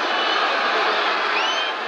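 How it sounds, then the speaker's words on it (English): A crowd roars in appreciation at the 1963 Ireland v England rugby international, a broad sustained hiss of cheering voices filling the whole moment, steady and loud before easing slightly at the end, with faint commentary beneath. "A roar of appreciation from the crowd for Hunters."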